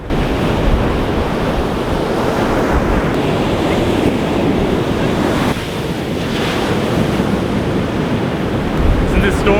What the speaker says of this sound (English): The waves are huge!